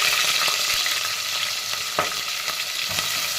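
Green chillies fry in hot oil alongside whole spices like cinnamon and cloves, giving a bright, steady sizzle with a few sharp stirring clicks and pops.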